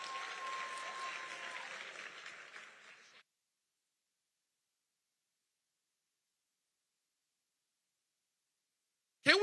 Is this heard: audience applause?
yes